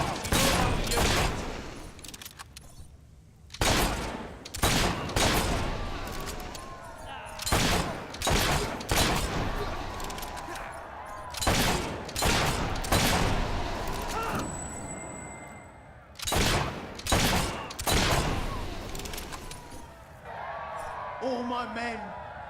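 Repeated gunfire in the video game Fable III, a steady series of loud, close shots spaced a second or two apart with echoing tails, with voices and crowd noise between and beneath them.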